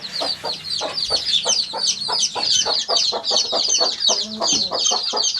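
Chickens, including chicks, cluck rapidly and continuously in a farm cage in winter. The calls are loud, close and densely overlapping, with a restless, busy rhythm throughout.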